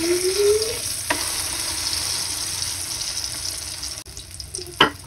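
Tortang talong, a Filipino eggplant omelette, sizzles steadily in a hot pan with oil, a constant close frying hiss broken by a few clinks and scrapes of a utensil.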